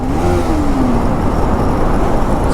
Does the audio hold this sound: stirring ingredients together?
no